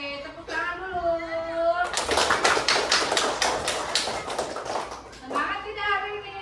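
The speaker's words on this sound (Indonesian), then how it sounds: "Oke, tepuk tangan dulu." Primary-school children in an Indonesian classroom break into a sustained round of rapid, loud applause lasting a few seconds, with a teacher talking just before and after.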